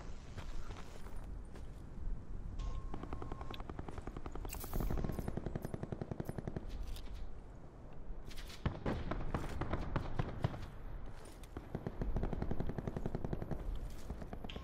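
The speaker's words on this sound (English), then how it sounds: "Lots of firing on this island." Rapid automatic gunfire fills a Call of Duty Black Ops 4 match on an island, with dense bursts of shots and sniper fire rattling throughout, some close and loud, others farther off, with no one talking.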